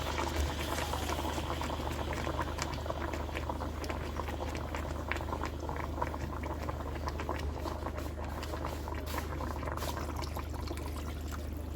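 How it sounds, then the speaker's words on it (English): Beef broth with a little added water simmers in a pot, a steady close bubbling and gentle popping that continues quietly and evenly throughout with no talking. "Okay, so I want this to simmer."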